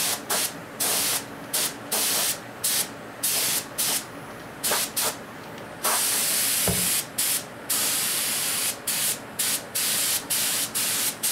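Repeated short bursts of spray paint hiss from an aerosol can, close and loud, with brief pauses between, then a longer continuous spray before the short bursts resume, fogging a 1/8 scale model Corvette body.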